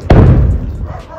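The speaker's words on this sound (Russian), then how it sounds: "А вон сейчас будет взрыв." A single loud explosion from a downed drone or rocket, a sharp close-sounding boom followed by a brief fading low rumble.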